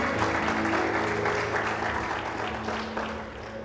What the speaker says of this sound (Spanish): Vamos a aplaudir a Cristo